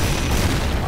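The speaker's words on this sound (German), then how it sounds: "Geh weg da, der Hund explodiert." An exploding dog in the video game Call of Duty MW3 Survival mode, one loud, close, booming blast filling the brief moment with heavy low rumble.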